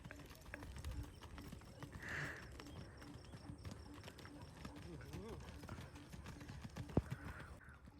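Hooves of a stylish mare clip-clopping at a steady walking pace, fairly close, with people talking throughout and a brief sharp knock near the end.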